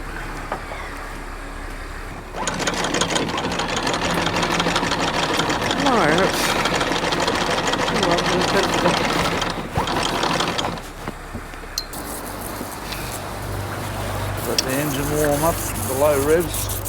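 A steady, rhythmic engine chugs at low revs close by, with clattering mechanical noise and voices talking over it in places.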